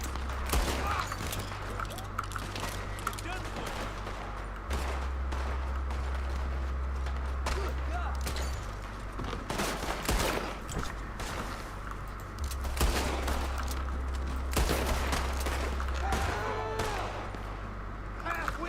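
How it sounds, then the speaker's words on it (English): Townsfolk trading gunfire in a Western town in Red Dead Redemption 2, repeated sharp shots scattered across the stretch over a low droning game score, with someone talking over much of it. "Just let them shoot each other if I can, that way I won't get the blame for it."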